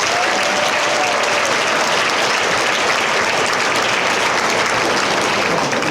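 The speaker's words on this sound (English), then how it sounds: "So please give yourselves a round of applause." Guests at a scholarship award dinner break into a loud, sustained round of applause, dense clapping filling the room evenly for six seconds.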